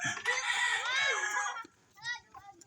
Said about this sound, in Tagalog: Yung aking manok pala.